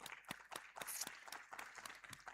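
A short burst of applause, many hands clapping at once, fairly faint and steady for a couple of seconds.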